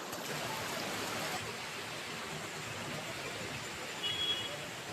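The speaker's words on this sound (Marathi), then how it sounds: "मोठीच नदी आहे" A big river flowing near a temple site, a broad, steady rushing wash of water, moderately close and constant, with a slight swell near the end.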